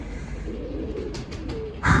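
Pigeons coo softly over steady low background noise at feeding time, with a few brief bursts and a louder rustle at the very end.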